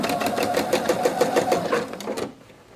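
A sewing machine stitching in a steady rapid rhythm, loud and close, then stopping abruptly near the end.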